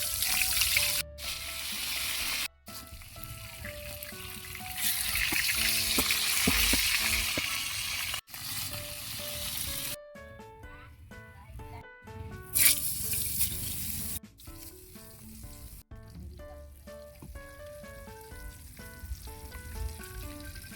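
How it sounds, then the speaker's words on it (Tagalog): Dalagang bukid fish and eggplant frying in a pan on a stove. A steady, moderately loud sizzle runs throughout under tonal background music, with brief dips and no one talking. "Pipirito na tayo."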